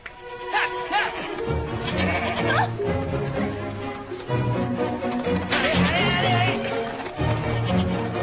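Goats bleat repeatedly in a busy outdoor scene, loud and close, several overlapping calls mixed with other noise and movement while people shout nearby.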